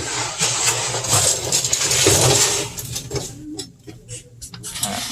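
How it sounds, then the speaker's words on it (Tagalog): A split air conditioner's faulty blower whirs with a rough, rattling clatter, close by, the noise easing a little and becoming choppier toward the end. "Ayan ating blower niya, lakas ng malampag"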